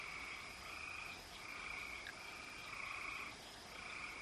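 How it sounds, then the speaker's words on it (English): Bayou night ambience, a steady chorus of frogs croaking and chirping with a continuous high insect-like trill, dense and unbroken throughout with a fairly even, moderate level. "the sound effects on here are crickets. That's it. It's a bayou. It's crickets and water"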